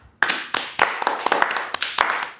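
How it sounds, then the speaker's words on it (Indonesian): A few people clap in a talk-style health Q&A setting, sharp separate claps landing in an uneven rhythm, close and fairly loud, with no talk over them. "tepuk tangan."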